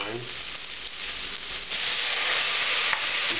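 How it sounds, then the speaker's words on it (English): Red wine hitting a hot pan of browned vegetables sets off a steady, close sizzling hiss that swells louder partway through and holds there, with faint stirring underneath. "Now I can add the red wine."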